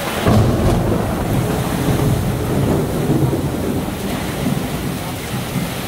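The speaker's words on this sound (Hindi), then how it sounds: "रास्ते में बारिश आप देख सकते हैं।" Heavy rain pours during a night motorbike ride on the road back from Mahadev Ghat in Raipur, a steady close wash of hiss over a continuous low, thunder-like rumble that holds unbroken for several seconds with no voices.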